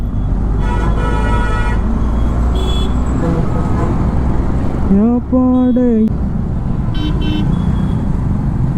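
A busy bus stand full of traffic: a continuous roadway rumble with engine drone, several short horn toots and one longer sliding horn blast, all heard up close.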